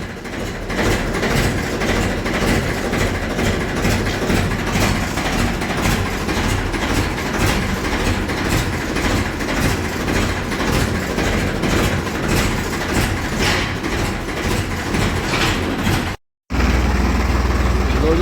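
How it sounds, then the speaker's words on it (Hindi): Ford tractor engine running and shifting into reverse, a loud, continuous low diesel chug that holds steady throughout, broken by one brief cut near the end, with someone speaking over it. "वाह क्या शानदार आवाज है फोर्ड की।"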